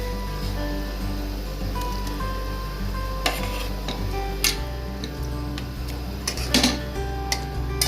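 Fried paneer is tipped into a boiling kadai gravy and stirred, a steady bubbling sizzle with scattered spoon clinks and scrapes against the pan, close and continuous with no talking.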